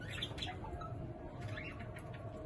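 Pet budgerigars in cages chirping, a busy mix of quick bright tweets and chatter from several birds nearby, steady and fairly quiet with no talking.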